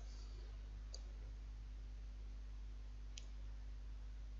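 Two soft, isolated mouse clicks, one near the start and one later, while choosing a color in LabVIEW on a computer, faint over a low steady hum with no talking.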